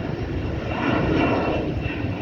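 A DHL cargo plane taking off from Grantley Adams International Airport, Barbados, gives a loud, continuous engine roar that builds briefly and then holds steady.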